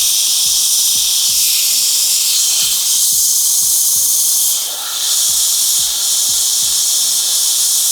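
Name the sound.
airbrush spraying primer on miniatures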